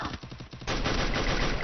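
Rapid automatic fire from a Double Vector submachine gun in the Free Fire mobile game: a fast rattling burst of shots that turns into a dense, loud, continuous spray, with no talking.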